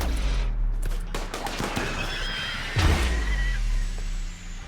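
Charge blaster gunfire in RimWorld, a fairly steady stream of sharp, clattering shots and thuds with a heavier burst near the end, loud and close with no voices.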